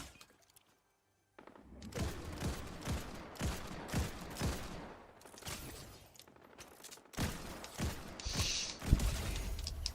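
Gunfire in the video game Fortnite during a Batman summer event: after a brief silence, loud rapid shots repeat in a steady, even rhythm, followed by further bursts and impacts.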